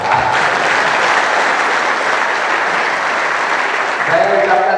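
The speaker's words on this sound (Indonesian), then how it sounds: "Tepuk tangan dong, boleh Pak" Steady, loud applause from a large audience filling a lecture hall at a police staff college, dense and continuous with no breaks, and a few voices rising near the end.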